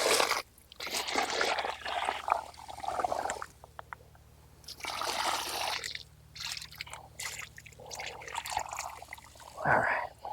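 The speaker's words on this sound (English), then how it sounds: "water the tree really well around the root ball" Water is poured around the root ball of a newly planted tree in the ground, making a splashing, trickling pour that comes in bursts with gaps between them.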